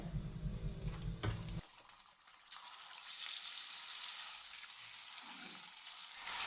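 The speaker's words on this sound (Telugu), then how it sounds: "ఆయిల్ అయితే వేడైందండి ఇప్పుడు ఇందులో చిటికెడు ఉప్పు కొంచెం పసుపు వేసుకొని ఎగ్స్ని ఫ్రై చేసుకుందామండి" Eggs frying in hot oil seasoned with a pinch of salt and turmeric, a steady hiss and sizzle after a brief loud clatter at the start, moderately close with no talk.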